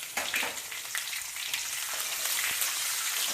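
Green chilies and curry leaves sizzle and crackle in hot oil during a tempering for mor kali, a steady close frying hiss with scattered pops, no talking.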